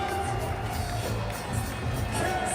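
A large crowd cheers and roars continuously at a freestyle motocross night event in Hannover, a dense, steady wash of voices with scattered higher shouts.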